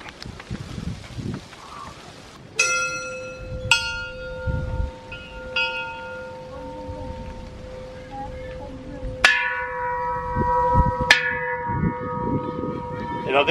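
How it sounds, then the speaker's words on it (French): Metal temple bells struck by hand at Tiger Cave Temple in Krabi, Thailand, ringing out one after another in five clear strikes with long, tonal, shimmering decays, close and loud over faint background noise. "je vais sonner les cloches parce que j'en ai bavé pour faire ce truc"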